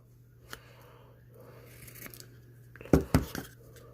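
Scissors snip through paper while building a model tug boat, a few quiet cuts near the end of an otherwise hushed stretch with faint handling noise.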